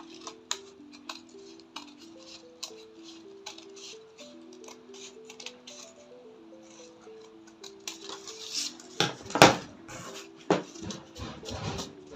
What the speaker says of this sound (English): So we are going to cut this pattern out now.